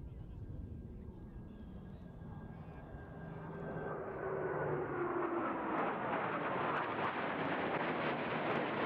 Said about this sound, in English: the Diamond rolls, all 4 aircraft flying as one in this graceful